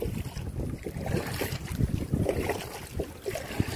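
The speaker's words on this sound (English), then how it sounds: "This wind is really pushing." Strong wind buffets the microphone beside a backyard pond, a steady low roar with gusty surges and no voices.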